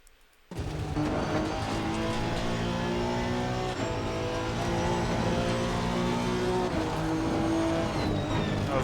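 Honda NSX Evo GT3 race car engine in Assetto Corsa Competizione at Oulton Park, cutting in after a brief quiet moment and then holding a loud, steady, high-revving drone with tonal whine as the car runs at speed.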